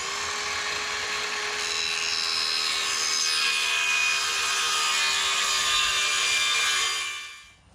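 A power tool cuts a piece of wood for a Toyota 4Runner rear cargo plate, a loud, sustained high whine with a shifting pitch that winds down and stops near the end, with no talk.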